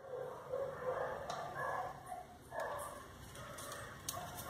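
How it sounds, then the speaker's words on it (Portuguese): Several dogs bark and yip repeatedly at a moderate distance, overlapping in irregular bursts against a steady background hum. "Desculpa os cachorros aí. Estão latindo bastante hoje."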